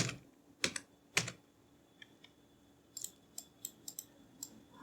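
Bursts of typing on a computer keyboard in Excel as month names are entered, a few clustered key clicks near the start, then a run of separate keystrokes toward the end, close and fairly quiet with no talking.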